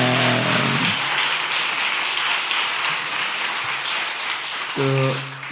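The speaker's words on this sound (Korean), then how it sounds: "박수 해주세요." A church congregation claps during a Sunday afternoon service after a hymn, a steady mid-level patter of many hands, with a sung or spoken voice heard briefly at the start and again near the end.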